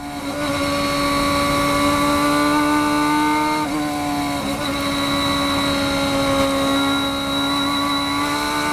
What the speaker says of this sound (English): You can hear the three waves of throttle application that I did.